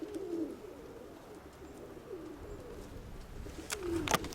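A pigeon in a loft gives soft, low, repeated coos at close range, with a few sharp knocks or taps near the end.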